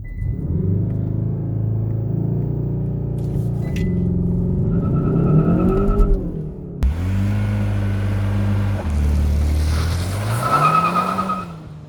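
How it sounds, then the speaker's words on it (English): A 2021 Kia K5 GT using launch control, its engine revving hard and climbing through the gears with a shift break, loud and close with tyre noise, no talk over it. "I'm gonna start giving it some gas."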